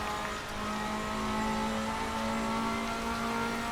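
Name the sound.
Ferrari engine revving in sim racing video game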